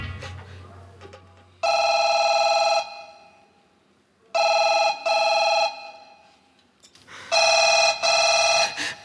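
A telephone rings in three loud electronic bursts separated by short pauses, close by in a quiet room, with faint background rustle between rings in a Hindi nautanki drama.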